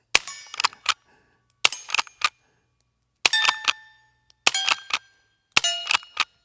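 Pump-action .22 rimfire rifles fire short rounds in quick pairs and triplets, sharp, fairly quiet cracks with brief metallic ringing, separated by short silent gaps, with no talking.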